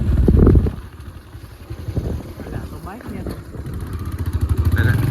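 A scooter engine idles and then runs with a low, rising rumble that grows louder toward the end, under people talking during a Diwali-season outing.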